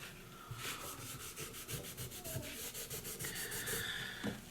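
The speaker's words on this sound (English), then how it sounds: "So I just want to knock the rust off." Rust being rubbed off a hunting rifle with quick, rhythmic back-and-forth scrubbing strokes, close and steady, ending in a brief knock.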